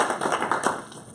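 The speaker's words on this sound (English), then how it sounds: "Let's give Adam a round of applause." A small workplace training group gives a short burst of applause indoors, brief and fairly quiet scattered clapping that fades within about a second.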